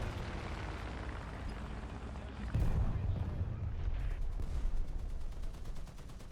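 Tank gun shells striking an M47 tank in a video game, a steady rumble of battle noise that swells into a heavier burst of impacts and gunfire partway through, fairly faint overall.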